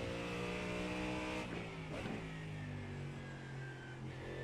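A Ford Mustang race car engine in iRacing: a loud, buzzing engine note with clear harmonics, dipping and rising through gear shifts as the car laps, steady and close throughout.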